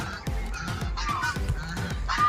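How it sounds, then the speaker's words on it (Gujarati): Geese or similar fowl honking repeatedly on a farm with mango trees, a steady run of loud, near nasal calls coming in quick bursts over the full stretch with no talk. "અને અહીંયા કંઈક પક્ષી લાગે છે"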